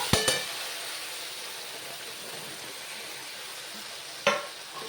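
Soya chunks dropped into a cooked spice masala sizzle softly in the pan, with a couple of sharp utensil knocks at the start and another near the end over a steady quiet hiss.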